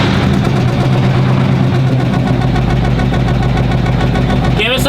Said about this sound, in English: We'll fire it up and see if it spraying oil.